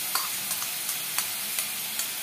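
Whisked sour yogurt goes into a karela curry in a pan, giving a steady soft sizzle of frying with light, regular stirring taps every half second or so.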